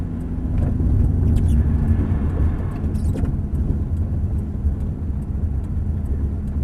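A Ferrari 430 rolls slowly into the pits at Prestwold track on light power, its engine a low, continuous rumble heard from the cabin with a few faint clicks and knocks along the way.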